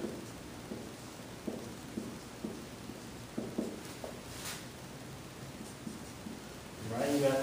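A pen writes by hand on paper, giving a quiet, close scratching in short repeated strokes over a soft background hiss.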